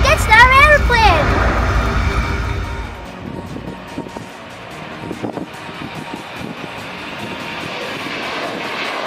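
A loud jet engine roar and whine at the start fades after a few seconds into a softer, distant rumble with clattering background noise.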